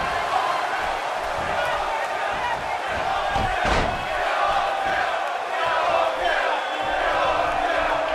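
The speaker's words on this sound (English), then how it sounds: "by the sound of this crowd, I think they're getting what they wanted" Dense, roaring wrestling crowd at a live televised show, a steady wall of cheering and shouting that stays loud throughout, with a brief sharp impact near the middle rising out of the noise.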